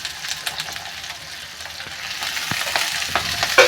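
Fenugreek leaves sizzle and crackle in hot oil in a pan with black eggplant and small stuffed eggplants, a steady close frying hiss with occasional louder pops, no voices.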